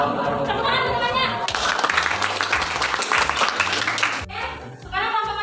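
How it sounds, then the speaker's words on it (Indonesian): Classmates applaud a student group, a loud burst of clapping with chatter that stops abruptly, with talk before and after it. "Tepuk tangan untuk temannya."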